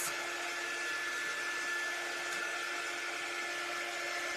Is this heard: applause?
no